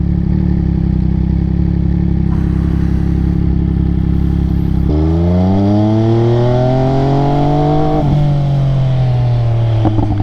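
An MV Agusta motorcycle ridden on the road, with its engine loud and close, holding steady, then revving up hard through rising pitch, easing briefly and pulling again.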